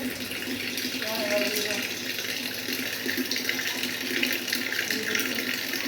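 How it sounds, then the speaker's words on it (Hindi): Water pours steadily from an RO purifier tap into an earthen pot in a home kitchen, a close, continuous rushing splash while someone speaks briefly over it. "सीधा यहाँ से आर ओ चल रहा है"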